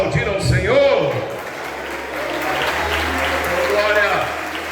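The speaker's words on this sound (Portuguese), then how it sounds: "Você pode aplaudir ao Senhor." A church congregation applauds during a worship service, steady clapping filling the room beneath a preacher's voice that rises over it with musical tones in the background.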